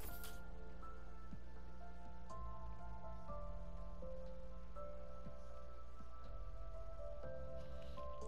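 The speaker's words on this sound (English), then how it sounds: "Gotta get rid of this rain." Rain falls steadily in Minecraft Bedrock Edition, a constant soft patter over a low hum and droning background tones, with no voices.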